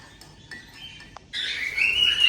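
Pet birds chirp and tweet in a home in a steady stream of small calls, louder and busier in the second half, with no talk over them.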